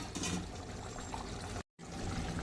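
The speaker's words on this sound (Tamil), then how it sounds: "இப்போ வந்துட்டு நான் ஒரு டம்ளர் ஒரு 200 ml தண்ணி ஊற்றிக்கிறேன்" Water pouring steadily into a 200 ml tumbler, a continuous splashing gush, close by, with a brief cut of silence near the end.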